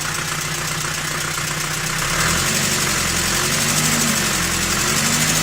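ZMZ 405 engine idling with an unexplained knock and rustle, a loud close running drone with a rapid ticking clatter through it that grows slightly fuller partway through, with no talking.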